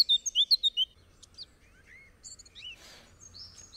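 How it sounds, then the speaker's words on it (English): Bird calls in the video game Bloody Horror Plant: a quick run of about six bright chirps, then scattered fainter tweets and a short noisy burst over a quiet low hum. "Whoa, that's a big bird."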